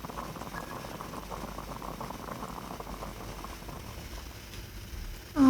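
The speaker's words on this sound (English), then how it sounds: "I'll boil some water." Water bubbles at a steady boil in the Genshin Impact video game, a soft, continuous rolling simmer at moderate level, ending in a brief louder thump.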